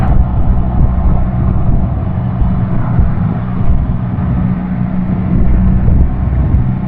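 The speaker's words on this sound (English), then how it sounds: "Yeah, the bike is accelerating, as you can see, till 102." BMW R1300GS motorcycle accelerating hard during an overtake on the road, a loud steady engine roar mixed with heavy wind rush at the helmet, no voices.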